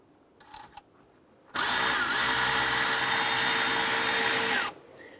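A power tool whirs steadily for about three seconds as it removes a 13mm nut from the MDS solenoid on a 2011-2018 Ram 1500, loud and close after a few faint clicks, then stops abruptly.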